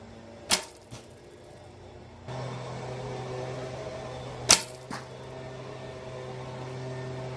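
A Fuse Focus recurve bow with 20-pound limbs is shot at an archery range. Sharp release snaps cut through, each followed by a noisy, buzzing limb ring and a steady hum that lingers afterward, with no speech.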